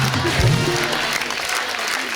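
Studio audience applause on a comedy talk show, a steady wash of clapping heard up close for a couple of seconds, with a host's voice over it.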